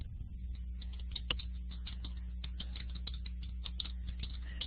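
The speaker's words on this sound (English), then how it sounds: "So I'm typing in just in case Mayong can't hear us." Rapid clicking of a computer keyboard during an online meeting, irregular close keystrokes tapping along over a low steady hum, faint and without talk.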